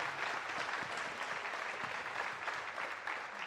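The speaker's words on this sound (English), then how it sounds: "can we give a round of applause to all the parents and grandparents" Steady applause from a graduation ceremony audience honouring parents and grandparents, a dense, continuous wash of clapping that holds evenly throughout with no speech over it.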